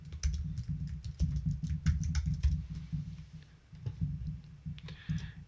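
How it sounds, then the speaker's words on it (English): Fingers type on a computer keyboard nearby, a quick run of soft clacks and clicks in uneven bursts with a short pause partway through. "You're going to type your name here."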